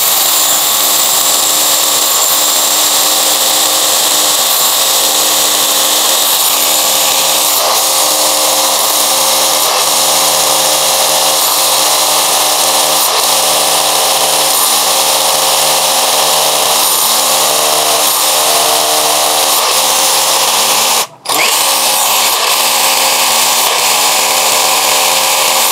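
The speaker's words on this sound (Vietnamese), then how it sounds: "Khoan được 2/3 mũi như này là cũng rất xuất sắc rồi" A power drill bores into concrete with a large 16 cm bit. It makes a loud, continuous grinding whine that runs almost without a break, stopping for a moment once before carrying on.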